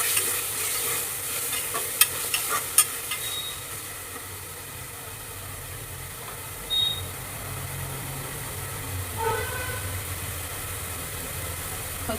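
Mutton biryani mixture with chicken masala, garam masala and homemade biryani powder being stirred in a pan, a continuous moderate sizzle with occasional clacks of the spoon against the pan.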